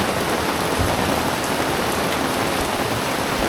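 Heavy torrential rain pours down steadily during the dry season, a dense, loud, continuous hiss of drops hammering surfaces without letup.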